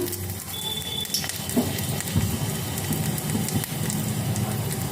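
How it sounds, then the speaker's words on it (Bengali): Bay leaf and a dried red chili sizzle in hot oil as a tempering for a bottle gourd dish, giving a steady, close crackling hiss with scattered sharper pops and no talk. "ফোড়নে দিয়ে দেব তেজপাতা, একটা শুকনো লঙ্কা"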